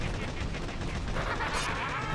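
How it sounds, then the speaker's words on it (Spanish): In a Halloween-themed video game, pumpkin mortar shells burst in a dense, noisy run of blast-like crackles, loud and constant for about two seconds, with a brighter burst near the end. "Una vez que les llega la calabaza, aparte tiene un sonido bastante terrible."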